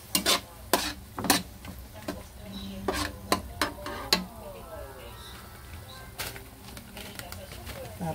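Food sautéing in a pan for lomi soup, with sharp clatters of a utensil stirring and scraping against the pan over a low steady sizzle; scattered knocks come in bursts.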